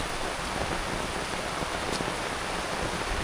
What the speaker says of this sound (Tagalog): biglang lumakas yung buhos ng ulan.